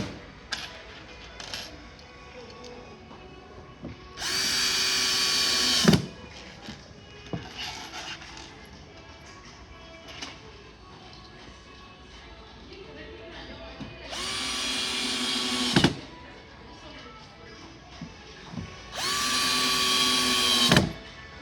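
A power drill drives fasteners into a bed frame panel during assembly, three loud whirring bursts of a few seconds each, separated by quieter handling sounds and small clinks.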